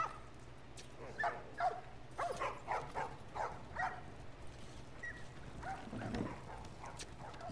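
A puppy yips and whimpers repeatedly, giving short high barks and thin whines in an uneven rhythm over a steady low background hum, moderately close and fairly quiet, with no talking.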